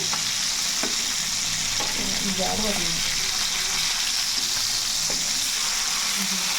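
Fish frying in a pan sizzles loudly and steadily, with a few soft scraping and stirring knocks as the pieces are turned over; a voice talks faintly beneath the hiss.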